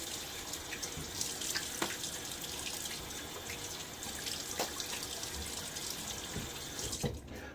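Tap water runs continuously into a sink to rinse a safety razor during a wet shave, with a steady close splashing and occasional light clinks.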